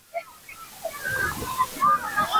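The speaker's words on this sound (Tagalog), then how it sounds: "Maagos ang tubig dito." Water sloshing and splashing around a person wading across a strong current at Baseco Beach, with irregular swishes building from soft to louder, and people talking over it.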